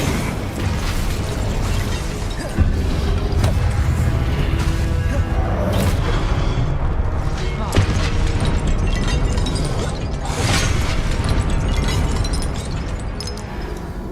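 Fiery Confringo spell blasts from Hogwarts Legacy boom loudly one after another, dense crashing explosions with debris and magic effects filling the scene and no talking.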